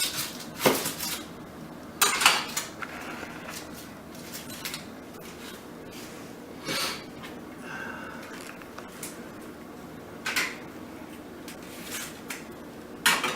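A knife trims the ends off an onion and peels it on a board while salsa is made, with scattered sharp taps and knocks, faint scraping and peeling in between, close by.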